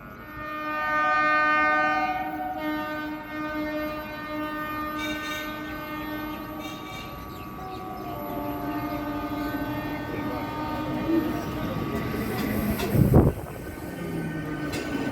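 A Howrah-bound local train runs from Bally station to Belur with a steady rolling rumble and a sustained horn tone. A sharp clattering burst comes near the end, and nobody speaks.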